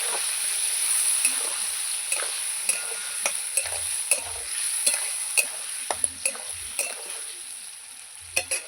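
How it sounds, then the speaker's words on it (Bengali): A ground paste of cumin, ginger, garlic and onion being stirred in a hot pan, with a steady oily sizzle and a series of soft scraping clicks from the spoon at an irregular pace. "মশলাগুলো নাড়াচাড়া করে নেবো"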